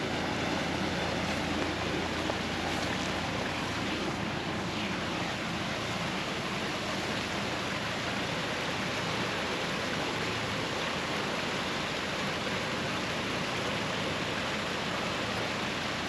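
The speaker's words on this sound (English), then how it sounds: "There's a waterfall down there" A waterfall in Jenolan State Forest, NSW, Australia, heard as a steady, broad rush of falling water that stays constant and fairly loud throughout, with no voices.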